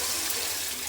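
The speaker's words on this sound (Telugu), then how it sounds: "నేనైతే వాటర్ పోసుకునేద్దామండి" Water pours steadily into a cooking pan as vermicelli upma is prepared, a brief, continuous rushing splash with no talking.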